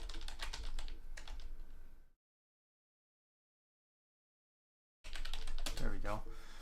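A computer keyboard is typed on in rapid bursts of close clicking, broken by a few seconds of total silence, with a voice talking over the keys.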